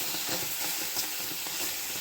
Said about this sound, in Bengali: টমেটোটা আমি এপিট ওপিট করে ভালো করে সেঁকে নেব যাতে একটা স্মোকি ফ্লেভার আসে।